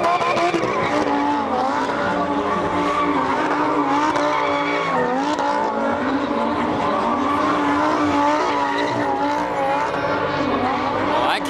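Cars drift with long, wavering tire squeals and roaring engines, loud and sustained over the whole stretch, at a tuner car event in Las Vegas.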